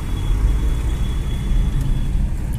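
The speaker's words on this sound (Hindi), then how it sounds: "अभी थोड़ा सा ट्रैफिक है यहाँ पे" Steady road traffic at Ballupur Chowk junction, a continuous low rumble of cars and trucks passing close by on a rainy monsoon day, with no voices.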